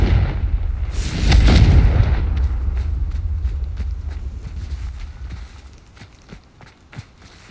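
In the Hogwarts Legacy video game, a loud Confringo spell explosion bursts at about one second and rumbles for about a second before fading into a steady low rumble, with sharp, quiet footstep-like ticks afterward.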